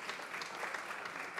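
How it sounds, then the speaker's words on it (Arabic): Steady audience applause fills the short stretch, dense and continuous with no pauses, a crowd clapping together at an event at close to moderate distance. "نحكيو تصفيق."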